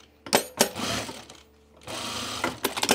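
Short bursts of a sewing machine stitching a button-down shirt, two quick runs separated by a pause, close and clear with light clicks between.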